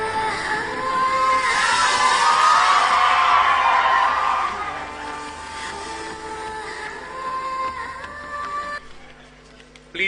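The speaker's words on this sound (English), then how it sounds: "Please do not hoot and whistle, my friends." A loud crowd at a political gathering roars, hoots, whistles and yells continuously, swelling to a peak then easing off, with a brief lull near the end.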